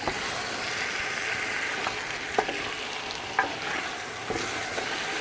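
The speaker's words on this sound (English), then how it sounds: "And give it a mix, give it a really good mix." Masala for chicken Sindhi biryani is mixed in a hot frying pan, an even close sizzle punctuated by several distinct scraping knocks of the spoon against the pan.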